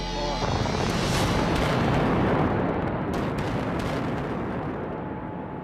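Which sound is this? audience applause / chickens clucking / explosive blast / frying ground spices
explosive blast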